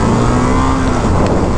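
Engine and wind rush from a 2023 Indian FTR R Carbon naked motorcycle cruising, a steady loud drone with a low hum throughout, no voices.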